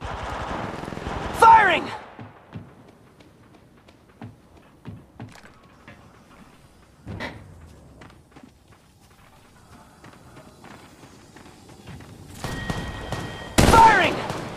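Gunfire from Apex Legends Mobile gameplay: loud bursts at the start and end, with sparse scattered shots, footsteps and faint game sounds in between, and a voice speaking briefly.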